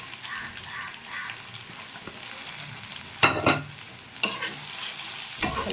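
Filling is stirred with coriander leaves in a frying pan for a kids' tiffin snack: a soft steady sizzle, with several louder scraping stirs of the spatula near the end, close and with no talking.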